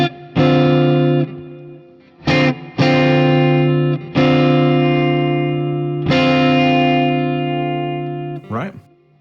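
Electric guitar played through a Quad Cortex amp model with a Dumble-style tone, several struck chords ringing out and sustaining with gaps between them, loud and close, some picked more lightly, ending with a short scratchy strum.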